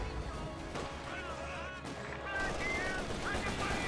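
Mortar blasts and rifle fire crackle continuously in the Company of Heroes 2 strategy game, with Grenadiers under attack; dense gunfire mixes with whistling tones and a commentator's voice talking over it.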